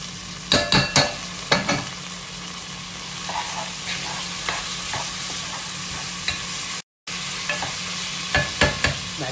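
Drained lentils go into a pan of frying onions and are stirred, with sharp clacks and scrapes of the spoon against the pan over a continuous sizzle, a brief gap of silence near the end.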